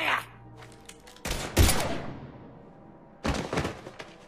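Sci-fi gunfire in the video game Mass Effect 3, loud bursts of rapid shots in several separate volleys with short gaps between them, each crackling burst trailing off into an echo.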